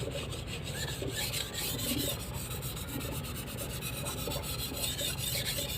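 A steady back-and-forth grinding rasp of a knife scraped across a sharpening stone, repeated in even strokes with a constant background hum and no talking.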